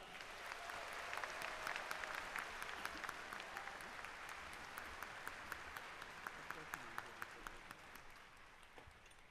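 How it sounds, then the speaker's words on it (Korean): A crowd at the 80th Liberation Day ceremony in Korea applauds the performers, steady, even clapping that fills the whole stretch at a moderate, slightly distant level. "모든 출연진분들께 다시 한번 큰 박수를 부탁드립니다"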